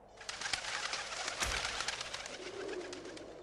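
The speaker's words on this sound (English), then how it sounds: "Damn pigeons, I'll cut you to pieces!" Pigeons coo softly and repeatedly in a steady rolling murmur, close by, with broadband noise in the background, in the game The Legend of Mulan.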